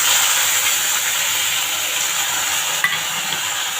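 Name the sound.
onion and garlic frying and being stirred in a wok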